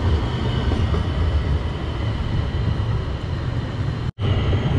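A metro train runs along rails laid down the middle of a street in Mauritius, giving a loud, steady rumble and rolling hum that fills the clip, with a brief break near the end.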